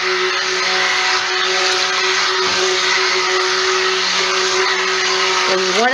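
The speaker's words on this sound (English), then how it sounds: "It's called burping your stick blender" Stick blender whirring steadily in soap batter for cold process soap, a loud, even motor drone right up close that shifts pitch briefly at the end.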